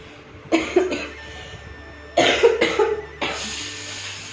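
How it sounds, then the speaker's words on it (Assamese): Three separate bouts of harsh coughing, each a quick cluster of hacking bursts, close and fairly loud with brief quiet gaps between. "কাহটো বৰ বেয়াকৈ হৈছে"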